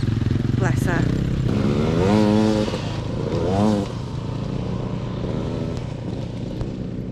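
Motorbike engines rumble and rev past nearby in Swaledale, North Yorkshire, rising and falling in pitch as they go by, with a voice heard faintly underneath.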